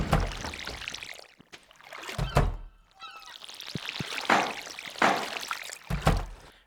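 Water is emptied overboard from a boat in Stardew Valley with a few hollow thunks and splashy pours, spaced bursts at moderate loudness over a quiet background, with no talk.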